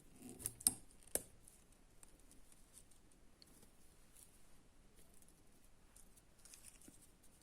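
A few quick, crisp snips of scissors cutting flower stems near the start, then only faint rustling and quiet handling noises.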